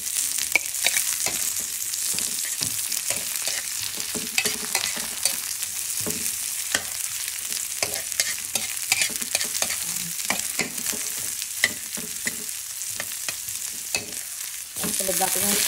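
Okra and tomato frying in a pan with steady stirring, a dense continuous sizzle broken by frequent scraping strokes of the spatula, close and fairly loud with no talking.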